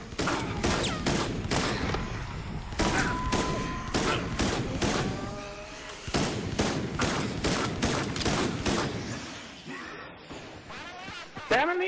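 Rapid gunfire bursts from the video game Resident Evil: Operation Raccoon City, including machine-gun fire, crackle loudly and almost continuously in dense volleys, with brief pauses and a few shorter pops near the end.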